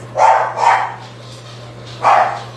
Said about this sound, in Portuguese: Minha cachorra latindo